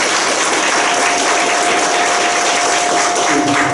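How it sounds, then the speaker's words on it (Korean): Audience at a Korean tax research forum's summer academic conference applauding the presenters and interpreter, a loud, even burst of clapping filling the whole stretch. "그럼 박수 일단 해주시고"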